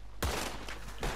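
A shotgun blast in Red Dead Redemption 2, a single loud booming shot followed by a sustained rumbling echo, with a second blast coming about a second later.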